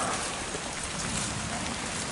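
Rain falls over a tilapia farm pond in a steady, even hiss that stays uniform from start to finish, with no other sounds rising above it.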